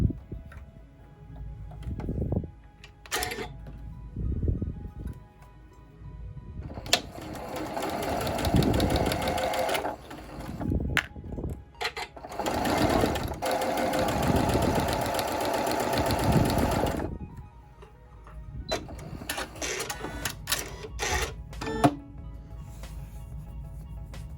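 A sewing machine runs in several bursts of rapid stitching, pausing in between, with a quick mechanical clatter up close.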